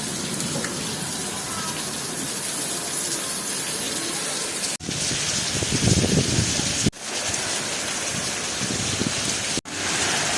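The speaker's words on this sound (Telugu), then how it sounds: "భారీ వర్షం అంటే భారీ వర్షం" Heavy rain pours down in a steady, loud, close hiss of water, continuous apart from a few abrupt breaks, with no clear voices over it.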